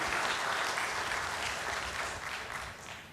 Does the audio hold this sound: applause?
yes